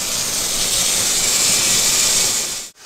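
Steam canner hissing loudly and steadily while processing jars of pasta sauce, a continuous close broadband hiss that cuts off abruptly near the end.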